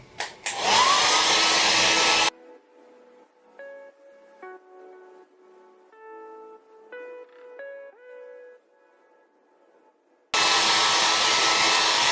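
Loud, close hair dryer blowing on mousse-wet hair, running for about two seconds, stopping while faint tonal notes play, then starting again near the end.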